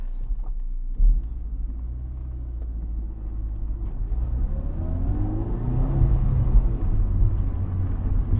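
A 2005 Honda S2000 AP2 with over 50,000 miles, heard from inside while driving: a low engine rumble that climbs in pitch as it revs and accelerates, with a brief thump early on and steady road noise.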